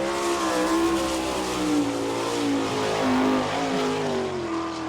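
A sprint car runs a qualifying lap at Attica, Ohio, its engine roaring loud and close with the pitch rising and falling through the turns, a continuous high-revving drone.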